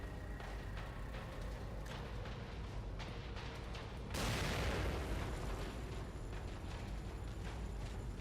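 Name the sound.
grenade explosion in video game The Evil Within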